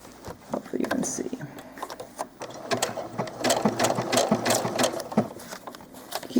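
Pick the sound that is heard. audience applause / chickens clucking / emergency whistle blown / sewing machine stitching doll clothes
sewing machine stitching doll clothes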